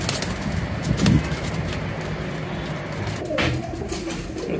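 Golden pigeons cooing in a loft, soft low repeated coos close by over a steady background hum, with a brief flutter of wings.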